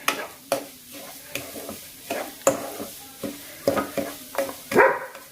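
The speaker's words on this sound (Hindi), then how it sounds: "तो इसमें मैंने ड्राई फ्रूट्स भी डाल दिए साथ में, थोड़े से वो भी सिक जाएंगे घी में।" Semolina and dry fruits roast in ghee in a new kadai for sooji halwa, with repeated spoon scrapes and knocks against the pan in an irregular rhythm over a soft, low sizzle.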